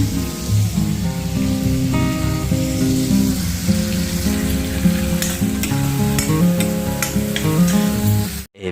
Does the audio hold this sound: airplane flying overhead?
no